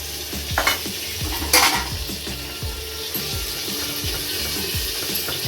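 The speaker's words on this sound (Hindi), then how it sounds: "तो कम से कम मैंने इसको 3 मिनट तक इस तरीके से भूना है।" Chicken and yogurt sautéing in a pot for handi biryani: a continuous close sizzle with rhythmic spoon strokes scraping the pot every half second or so and a couple of sharper metal clinks.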